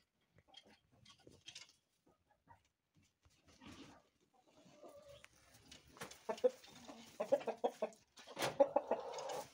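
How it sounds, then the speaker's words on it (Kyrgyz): Adler chickens on a farm cluck and call in scattered bursts, quiet at first and growing louder and busier toward the end, with faint background rustling. "Адлерский деген тооктор."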